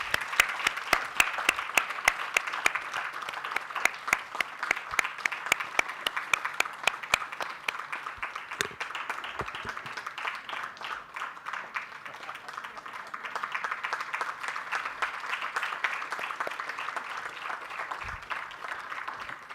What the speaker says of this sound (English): Let's give a huge round of applause